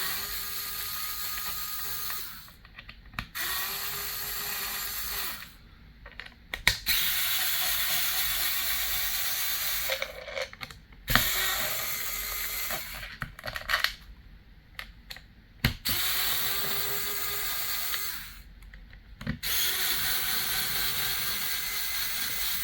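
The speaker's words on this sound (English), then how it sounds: "you can just completely loosen all the rest of the screws" Screws being loosened on a Byrna/Tippmann TCR marker during a full breakdown: bursts of close, dry ratcheting clicks separated by short pauses, with no one talking.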